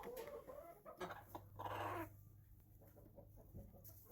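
Farmyard chickens on a homestead cluck repeatedly at close range, a busy flock chattering in short bursts with a brief louder squawk, no talking over them.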